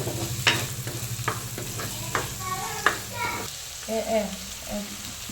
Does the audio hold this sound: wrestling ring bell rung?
no